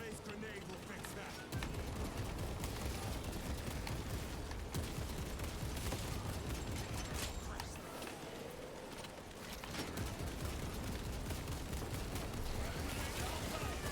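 Gunfire from the Space Marine 2 video game runs as a dense, continuous barrage through nearly the whole stretch, easing briefly around the middle, with voices mixed into the battle noise.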